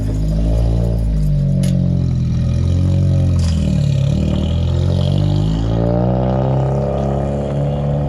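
A car pulls slowly into a driveway, its engine droning steadily with low rumbling harmonics that rise and fall as it eases in, fairly close and loud throughout.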